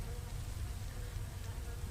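Honey bees buzz in a hive fed with fondant, a steady, faint, continuous hum with no breaks.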